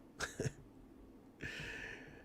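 Two quick, sharp coughs close by, followed by a brief pause and then a sustained breathy hiss.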